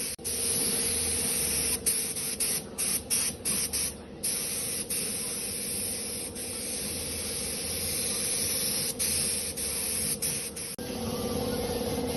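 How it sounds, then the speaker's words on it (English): A spray gun lays a thick coat of primer onto the chassis of a 1975 Series 3 Land Rover under restoration. The hiss is close, loud and continuous, with brief pauses and a slight change in tone near the end. "Giving it a nice thick coat of primer."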